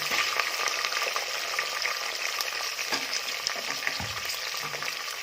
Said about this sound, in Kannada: ಈರುಳ್ಳಿ ಹಾಕ್ಕೊಳ್ಳೋಣ.